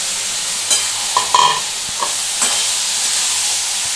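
Fried potatoes being stirred into jhinge posto, a Bengali ridge gourd and poppy seed dish, in a pan, giving a steady close sizzle with a few soft scraping knocks of the spoon.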